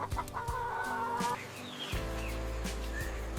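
Farm chickens cluck and call in short overlapping bursts over a steady low hum, with a faint crow-like drawn-out note, moderately close and without talk.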